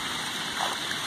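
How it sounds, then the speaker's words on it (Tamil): Motor-pumped water pours steadily into a large farm pond, a continuous close rushing splash with no pauses. "தண்ணி இங்கே விழுந்துக்கிட்டு இருக்கு, மோட்டர் தண்ணி விழுந்துட்டுருக்கு"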